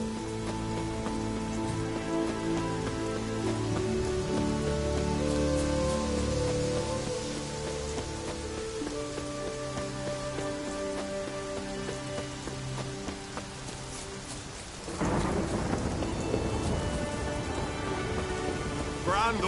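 Steady rain patters and hisses across a stormy scene in The Witcher, with low thunder rolling under a continuous musical bed and the downpour swelling near the end.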